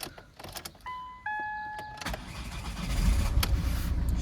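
A Ford Mondeo, recently fixed after a no-crank, no-start fault with multiple faults, gives a few electronic chimes, then its engine cranks and catches, settling into a steady close idle.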